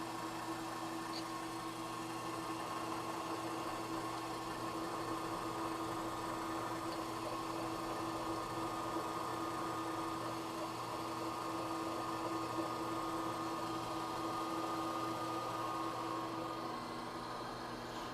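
A milling machine conventional-milling with a rotary table that has lash and play, producing a steady continuous whirring drone with a low mechanical hum throughout, fairly loud and unbroken, with no talking.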